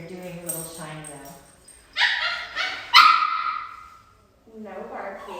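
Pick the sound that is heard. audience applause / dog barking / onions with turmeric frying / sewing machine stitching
dog barking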